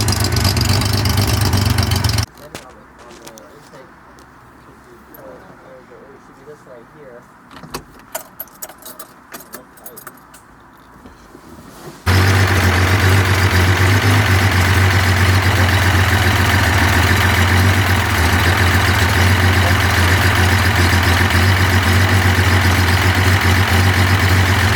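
A 1975 Datsun 280Z engine being tuned at higher RPM through its carburetors runs loud and steady, first briefly, then drops out for a quiet stretch with small clanks before roaring back into a sustained, dense drone to the end.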